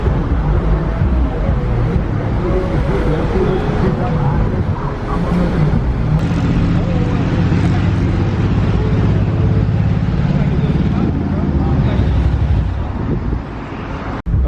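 Car engine rumbling at a car meet with Mopars on display: a loud, continuous low drone close by, buffeted by wind, with people talking over it.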